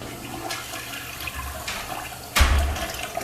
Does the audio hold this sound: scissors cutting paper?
no